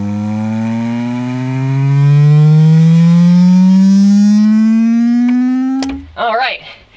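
Rising bass sweep from a 12-inch JL Audio subwoofer in a sealed box inside a vehicle, a loud steady tone gliding upward for about six seconds before cutting off, followed by a short burst of voice.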